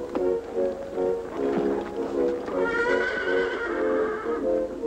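A horse whinnies in a horse-riding scene, a bright harmonic neigh with quavering pitch drawn out over several seconds, close and fairly loud over a busy background.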